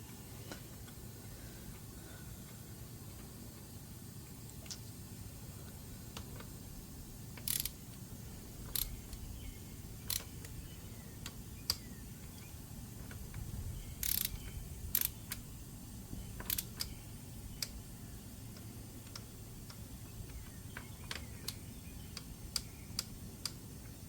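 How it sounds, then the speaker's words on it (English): Tightening the axle pinch bolts on a Beta enduro dirt bike produces faint, scattered metallic clicks and ticks from the tool, irregularly spaced over a quiet background. "And now it's just tightening up the pinch bolts, right?"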